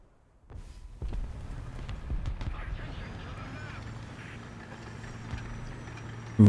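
A Russian tank engine in War Thunder starts up and settles into a steady low rumble with a slightly whiny upper tone, running continuously at moderate level while a person talks over it.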